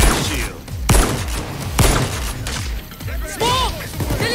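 Gunfire in Payday 2 during a safe house raid, with loud shots and crashes in irregular bursts over shouting and game chatter, plus whistle-like tones near the end.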